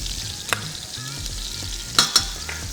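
Butter sizzling in a hot pan while a steak is basted, a continuous crackling fry close by with a few sharp spoon or pan clinks near the end.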